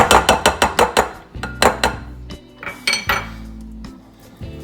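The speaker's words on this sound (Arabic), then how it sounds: "هلا بنخلطها منيح لحد ما يتجانس الخليط تبعنا." Mascarpone cheese mixture for tiramisu being mixed in a bowl, a fast run of sharp rhythmic clinks from a utensil striking the bowl, then slower scraping knocks, close and clear with no talking.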